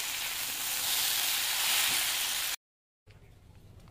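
Taro stolons cook with shrimp and sugar in a hot pan, giving a loud, steady sizzle that cuts to silence, then returns as a quieter frying hiss.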